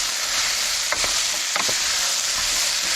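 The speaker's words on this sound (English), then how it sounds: "I want a little bit of searing on the cubes" Pumpkin cubes sear in a pan over a camp stove, a dense constant sizzle with a few brief stirring scrapes standing out, close and fairly loud with nobody talking.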